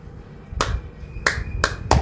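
Four crisp, sharp claps or snaps spaced irregularly over two seconds, close and fairly loud over a steady low background hum.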